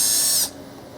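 Power drill whirring with a bit into the body of a 1978 Trans Am, a loud high-pitched buzzing spin for about half a second before it cuts off, leaving quiet room noise.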